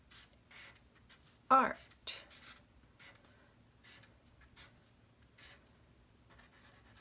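Pen or crayon writing words on paper during an art class, with soft scratchy strokes in short bursts under intermittent talk from a teacher.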